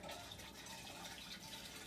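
Homemade orangecello liquid pours steadily in a small cascade like a little waterfall, a continuous close splashing trickle with no talking.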